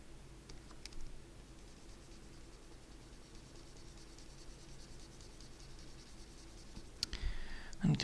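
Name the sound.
pen or stylus drawing strokes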